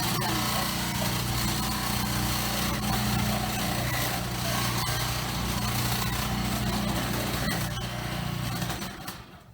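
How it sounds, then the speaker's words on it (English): A food processor shredding zucchini, a loud, steady motor whir with grinding and chopping for about nine seconds before stopping abruptly. "you don't have to do this with a food processor"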